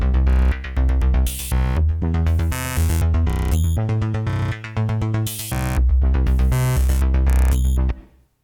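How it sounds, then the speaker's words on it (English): A synth bass arpeggio from the Thorn synthesizer plays with its glitch sequencer switched on, loud and rhythmic, chopped into stuttering bursts, abrupt gaps and rapid repeats before stopping at the end. "Thorn has a secret weapon in the form of a glitch sequencer"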